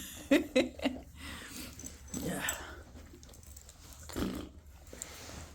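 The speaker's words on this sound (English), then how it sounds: "This is a whole lot of dogs, y'all." Several dogs make close, scattered barks and snuffling yips in short bursts, with quieter rustling and panting between them.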